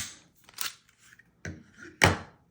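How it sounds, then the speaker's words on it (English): A Sig P365 pistol is taken apart up close: a few distinct metallic clacks and slides as the slide is pulled back and the takedown pin dropped, ending in a louder snap, with quiet gaps between. "365, you slide that back, drop that pin down"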